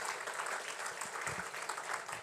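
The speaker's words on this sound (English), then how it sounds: "Can we have a big round of applause" An awards-night audience breaks into applause, a dense wash of many hands clapping together, steady and moderately loud from start to finish.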